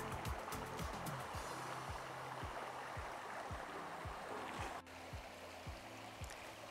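A shallow brook on a rural property in Canada flows with a steady, soft burbling wash of water, continuous and close, over a faint repeating low mechanical ticking, no voices.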